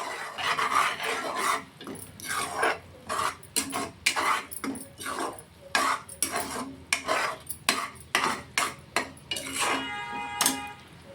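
Tomatoes frying in a pan are scraped and stirred with a utensil, producing a rhythmic series of loud, close rasping strokes and clinks against the pan with no voices.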